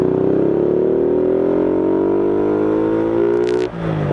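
A Honda Future LED motorcycle upgraded to 63zz revs hard as the throttle opens in second gear at low revs, a loud, close engine drone climbing steadily in pitch before cutting off sharply.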